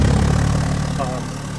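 Idling V12 engine of a 1990 Jaguar XJ12 with a misfire, a low steady rumble heard close up at the exhaust, with a slight uneven pulse and an engine note that softens toward the end.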